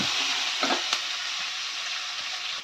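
Steady sizzling of jackfruit seeds sautéing in a hot pan, with a few clinks and stirring scrapes, continuous and close.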